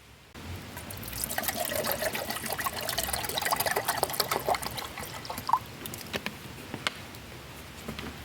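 Water pours and trickles into a container at a bushcraft camp outdoors, a steady close splashing stream with a few louder drips and gurgles.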